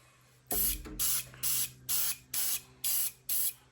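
An airbrush sprays paint onto the interior walls of a Craftsman model kit in seven short, sharp hissing bursts, close and alone, with brief quiet gaps between them.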